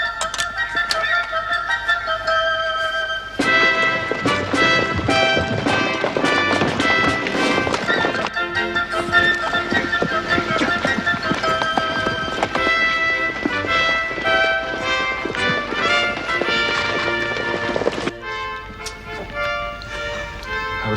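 Horses running with rhythmic clip-clopping hooves, loud and close, mixed with dramatic music and occasional neighing, continuing for around twenty seconds before easing off near the end.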